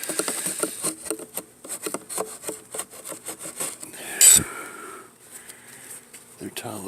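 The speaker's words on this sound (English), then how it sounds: "I gotta scrape the whole inside edge there" Metal hive tool scraping sticky propolis off the inside edge of a honeybee hive during an overdue spring inspection: a close series of short rasping strokes, with talk and a brief sharper scrape partway through.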